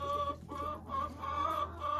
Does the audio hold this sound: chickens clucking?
yes